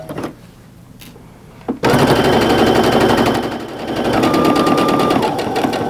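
Sewing machine stitching a half-square-triangle quilt seam, starting abruptly after a quiet pause and then running in a loud, continuous rapid needle rattle that eases briefly before picking up again.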